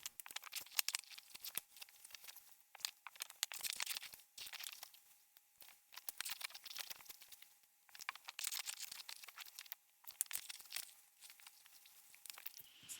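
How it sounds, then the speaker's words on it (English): Scissors snip through paper in repeated short crisp cuts with rustling in between, close up and fairly quiet, with no one speaking. "I've got my scissors and I'm cutting around the shapes"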